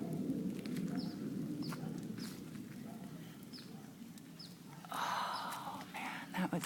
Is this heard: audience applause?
no